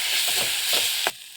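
Tomato sauce with chicken masala and a little turmeric simmering and sizzling in a pan, a steady close hiss with a few soft stirring scrapes, ending in a sharp clack before the sizzle drops away.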